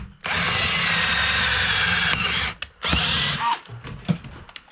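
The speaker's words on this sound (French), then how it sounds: "on va se faire un petit trou dans l'établi" A power drill bores a small hole into a wooden workbench in a home workshop, a loud steady whine for about two seconds, then shorter bursts with brief pauses as the bit cuts through, ending in scattered clatter.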